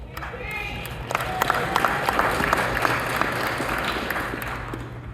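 Audience at a basketball Hall of Fame enshrinement speech bursts into applause, dense steady clapping with scattered cheers filling the hall at moderate level, with a murmur of voices mixed in.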